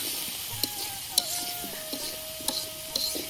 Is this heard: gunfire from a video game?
no